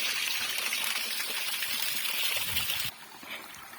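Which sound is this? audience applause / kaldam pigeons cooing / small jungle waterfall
small jungle waterfall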